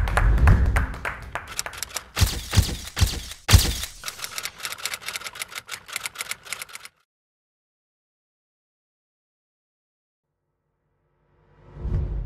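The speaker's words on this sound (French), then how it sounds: "On l'applaudit." An audience claps for a woman called to the stand at a public event, a close, crisp burst of applause with sharp individual claps lasting about seven seconds, then silence until faint sound returns at the very end.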